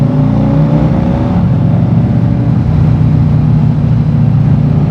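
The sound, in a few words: motorcycle quick downshift into first gear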